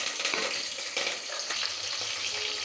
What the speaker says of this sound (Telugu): పచ్చిమిరపకాయలు, కరివేపాకు, ఆవాలు వేయించుకుంటున్నాను